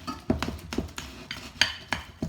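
A small spoon clinks against dishes as it is handled in a home kitchen, giving several sharp, close metallic taps spaced irregularly with nothing else heard.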